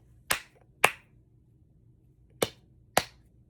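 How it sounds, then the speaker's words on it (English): Four sharp hand claps in a two-pair rhythm pattern, with a longer pause between the pairs; crisp and close in a quiet room. "The rhythm activity would be teacher claps the patterns"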